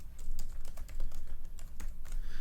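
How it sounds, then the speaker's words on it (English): Rapid, close clicking of a computer keyboard as sample text is typed into Microsoft Word, a brisk irregular patter of keystrokes with no voices. "delete our sample text that we just typed here"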